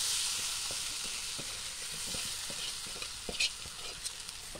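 Leftover bhakri pieces stir-fried with onion and turmeric in a pan, a soft steady sizzle with scraping stir strokes and a few sharper clinks near the end, close and fairly quiet, with no voices.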